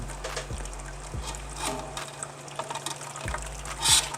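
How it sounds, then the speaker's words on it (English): Wort bubbling and gurgling as it recirculates through a home brewing system during a NEIPA mash, faint watery trickling with soft intermittent pops and knocks over a low steady pump hum. "I hear bubbling."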